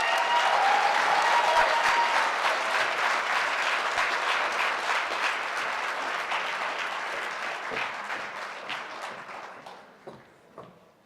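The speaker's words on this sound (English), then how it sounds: "Can we please give one more round of applause for him?" Audience applause fills a networking event celebrating Black businesses during Black History Month, a dense, steady clapping from a sizeable crowd that gradually thins and fades to a few scattered claps at the end.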